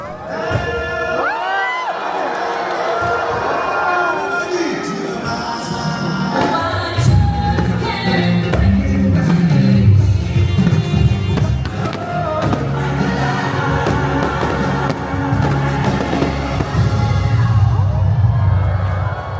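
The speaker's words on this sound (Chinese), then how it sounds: "晚上10点就是期待很久的海上烟花秀，是狮子王主题的" Lion King-themed fireworks crackle and boom in bursts over the sea beside a Disney cruise ship, with a large, excited crowd cheering and shouting throughout and continuous loud background noise.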